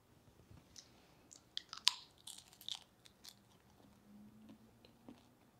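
Crisp crunching bites and chewing of a freeze-dried watermelon chip, close and fairly quiet, irregular crackles clustered mid-clip with no talking.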